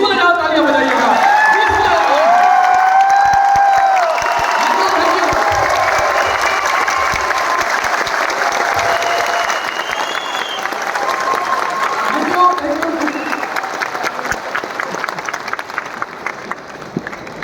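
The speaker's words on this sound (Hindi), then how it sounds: "एक बार खड़े होकर के अपने लिए उससे 20 गुना ज्यादा तालियां बजाइएगा" A large audience at a live event stands and applauds at length, loud sustained clapping mixed with cheers and whoops, gradually thinning into scattered claps as talk resumes underneath.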